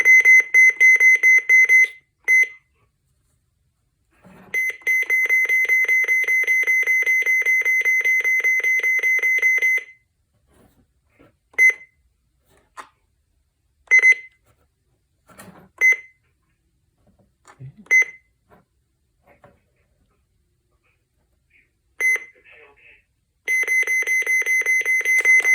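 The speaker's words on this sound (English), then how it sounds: "It's gonna have to keep beeping and scrolling for a while." A Midland 74-200 weather radio sounds a loud, continuous electronic alarm tone in long stretches, with a few short beeps and quiet gaps between them.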